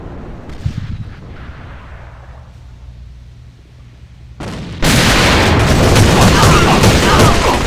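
A grenade blast in the shooter AVA during a competitive match, a sharp burst followed by a loud, sustained rumbling roar of explosion and gunfire that dominates the end, after quieter muffled combat sounds.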